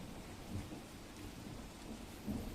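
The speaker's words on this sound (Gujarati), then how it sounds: "વહેલી સવારે વરસાદનું આગમન થયું છે" Steady, dense early-morning rainfall hisses throughout in Chhota Udepur district, with low rumbling underneath and no voices.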